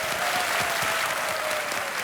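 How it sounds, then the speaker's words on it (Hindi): Studio audience at a TV quiz show applauds a contestant, a dense, loud, sustained burst of many hands clapping with a faint tone running underneath. "एक बार फिर तालियों के साथ इनका स्वागत।"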